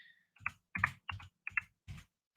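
Five or six quick, close keystrokes on a computer keyboard, crisp clicks in an irregular typing rhythm in a quiet room.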